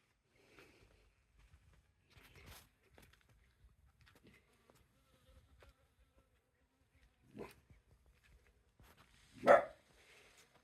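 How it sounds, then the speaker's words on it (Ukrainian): A dog barks a few times, sharp and short, with the loudest bark near the end and quiet stretches between them in an otherwise calm outdoor garden setting. "Що ти там гавкаєш, Алісочка?"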